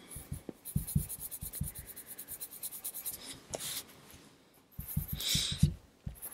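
Oil-based colored pencils stroking across paper in a series of quick, close scratchy strokes, grouped in bursts with a brief lull in between, with no talking.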